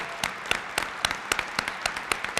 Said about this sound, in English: let's give the Kings and the delegation a great round of applause